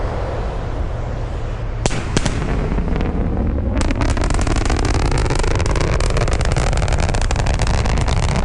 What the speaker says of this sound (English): a sonic boom is basically a brief thunder-like noise